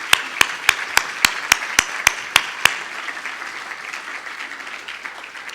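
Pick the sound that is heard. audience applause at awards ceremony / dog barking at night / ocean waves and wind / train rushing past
audience applause at awards ceremony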